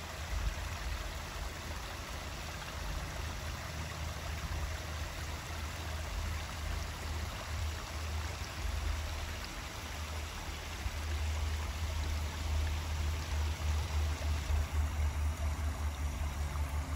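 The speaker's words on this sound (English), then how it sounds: "Barely running down. Feeding into the creek right there." Creek water flowing steadily at a rural property, a continuous broadband rush that stays even and fairly close throughout, with a low rumble underneath and no voices.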